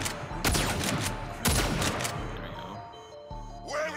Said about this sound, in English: Stop shooting the artifacts!